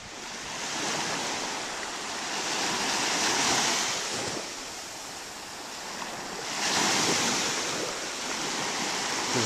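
Surf rolls in steadily on the beach at the Pelayo Street access on 30A, with wind sweeping across the microphone; two louder swells rise and fall, and no one speaks.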